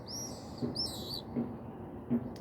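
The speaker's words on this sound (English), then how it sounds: "Definitely will be the birds, I can hear them." High, thin bird chirps trill twice in the distance over a steady outdoor hiss, with a few soft low thumps between.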